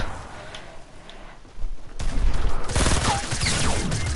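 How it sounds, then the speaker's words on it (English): Gunfire in the battle royale game Fortnite, with scattered shots that swell after a quiet start into a loud, dense volley of rapid rounds that keeps going to the end. "Oh, I'm being shot."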